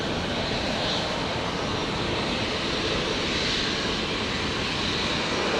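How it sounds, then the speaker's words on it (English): Qantas flight 633, an airliner, rolls for takeoff at Brisbane Airport at dusk, a dense, loud, unbroken jet engine roar filling the whole stretch without talking. "And Qantas 633 rolling now."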